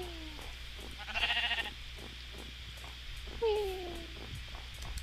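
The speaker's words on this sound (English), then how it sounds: "Gray sheep! Like gray sheep." Minecraft sheep bleat in short wavering cries, one early and another later, over steady game background noise while players talk.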